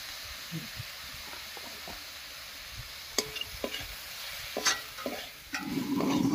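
Rice flour being stirred into chopped cauliflower stalks in a pan, giving a soft scraping and stirring over a steady background hiss, with a few sharper spoon clinks near the end and a brief sizzle.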